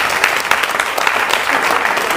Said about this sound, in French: Et qu'on applaudisse tous les trophées du GCE.